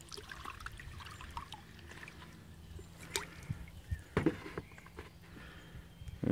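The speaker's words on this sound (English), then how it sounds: "Get some water in there." Water poured into a bucket holding chlorine granules, a quiet steady trickle and splash at close range, with a few louder knocks and sloshes near the end.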